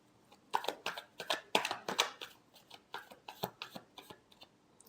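Tarot cards being shuffled by hand, heard close up as a quick run of crisp riffling and slapping bursts in uneven clusters, with no talking.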